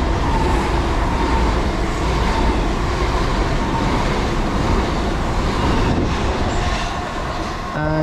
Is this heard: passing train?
yes